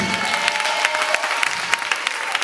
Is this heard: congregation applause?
yes